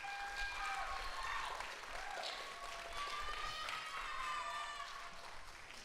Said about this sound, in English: give them a round of applause